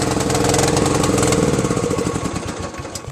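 A lawn tractor engine fitted with an added electric fuel pump runs loudly nearby, a rough, rapid mid-pitched chugging that stays steady before easing off toward the end.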